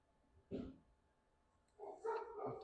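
A single muffled bark, then a short cluster of dog barks and yips a moment later, fairly faint against a quiet background.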